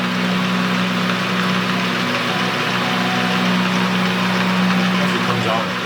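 A small lathe hums steadily as it runs, a loud, even mechanical drone with a constant low whine and no breaks throughout.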